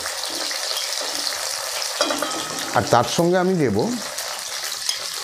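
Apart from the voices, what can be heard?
frying onion and tomato in a pan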